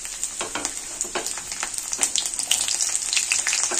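Asafoetida and chopped garlic sizzling in hot oil in a pan for a potato and fenugreek curry, a bright steady crackle and hiss close by with small popping bursts, no voices.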